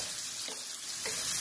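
Lean venison and onion stir fry sizzles steadily in a hot pan while being stirred, a close, continuous frying hiss with faint scraping movements.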